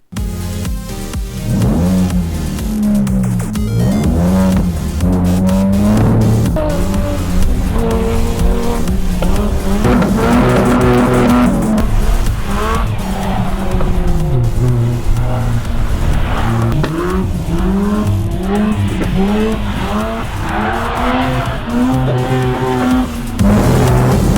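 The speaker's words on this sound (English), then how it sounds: "My first attempt to slide a rear-wheel drive car." A rear-wheel-drive Mazda RX8's engine revs hard and wavers up and down continuously while drifting at Crail Raceway, with tires squealing as the car slides, loud and close throughout.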